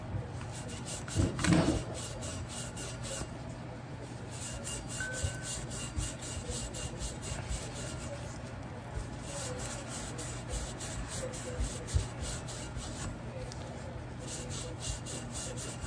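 Steady abrasive rubbing of a scratch pad scrubbing a surface, continuous close scraping strokes with a brief louder burst near the start, alone without talk.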